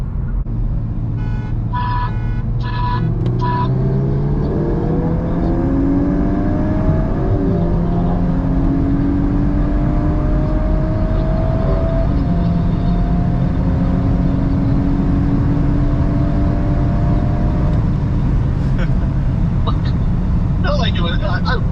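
A Hyundai Elantra N accelerates hard in third gear from 40 mph, its engine note climbing steadily through the revs with gear changes, loud and close, with voices talking over it.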